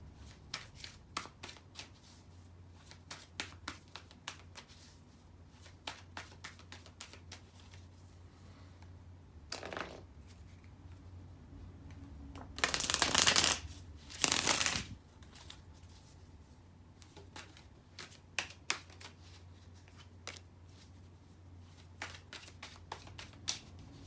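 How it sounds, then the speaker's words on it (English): A deck of tarot cards being handled, with repeated soft flicks and taps followed by a louder burst of riffle shuffling in the middle, close and quiet, with no speech. "Let me shuffle the cards"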